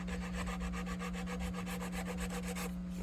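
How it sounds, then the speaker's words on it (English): Heavy 80-grit sandpaper rubbing back and forth on the wooden headstock of a 1960s SG guitar, a steady, rapid rasping stroke repeated about six times a second, close and loud, with a constant low hum underneath. "So I'm using a pretty heavy grit here, and I'd rather not have to sand that out of everything."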